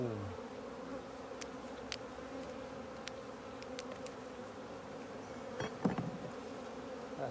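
Honey bees buzzing around a hive built into a flat roof, a continuous soft droning hum with a few individual bees passing closer, fairly quiet and with no talk.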